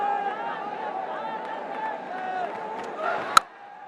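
A cricket bat cracks sharply against the ball for a six in a Bangladesh versus West Indies T20 match. The single crisp strike lands near the end, over a steady murmur from the stadium crowd.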